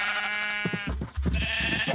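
Sheep bleating in the Minecraft modpack SevTech Ages during shearing, several close, wavering bleats overlapping one another with no talk.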